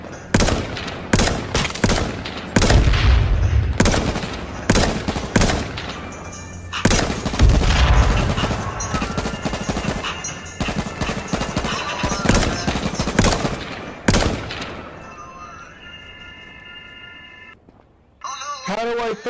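Gunfire in the battle royale game H1Z1 on PS4, sharp rapid bursts of shots and loud cracks in irregular clusters, some near and heavy, with players talking between and over the shooting.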